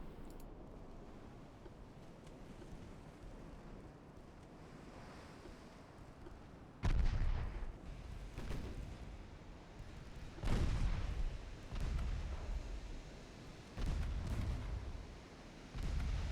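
Warship main turret guns firing in the naval game Ultimate Admiral: Dreadnoughts, a series of heavy booming salvos arriving after a quiet stretch, each a loud low blast with a rumbling tail, spaced a few seconds apart.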